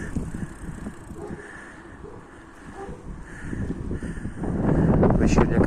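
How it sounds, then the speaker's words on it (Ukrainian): Wind rumbles and buffets against the microphone in gusts, growing louder toward the end, with faint background sounds mixed in. "Вітер дує."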